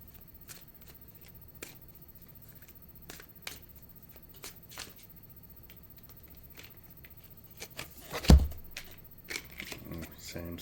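A deck of tarot cards being shuffled, with soft faint card flicks and one louder riffle near the end, heard close up.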